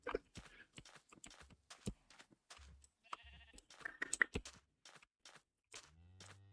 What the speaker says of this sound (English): God damn it, sheep.